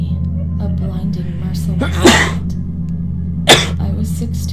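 Two sharp sneezes burst out about a second and a half apart, loud and close, over a steady low hum from the horror game Town of Light.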